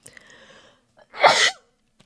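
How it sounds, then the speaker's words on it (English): A single loud sneeze bursts out after a brief soft breathy sound, close to the microphone, then quiet. "I have to sneeze"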